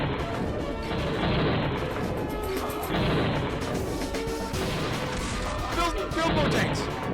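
Tanks firing in the video game Age of War, repeated crashing artillery-like blasts and thuds in a busy, steady stream under excited talking.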